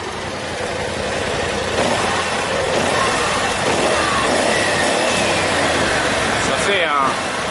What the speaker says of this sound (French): Et écoutez ce nouvel échappement.